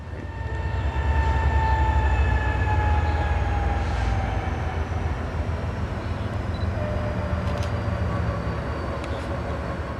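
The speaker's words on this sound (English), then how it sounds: "First up being CN Q122 working the Chicago Intermodal Terminal, which will then shortly start doubling up." CN Q122, a freight train working the Chicago Intermodal Terminal, doubles up at Homewood yard in Illinois, a steady loud rumble of rolling railcars with squealing tonal screeches from wheels and brakes over the full stretch.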